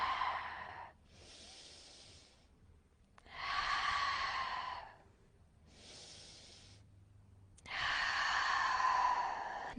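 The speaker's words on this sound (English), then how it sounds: "Take a couple breaths here." Slow, deep breaths during a yoga forward fold in a power yoga workout, with long audible airy inhales and exhales alternating with quiet pauses, close and unhurried, with no speech over them.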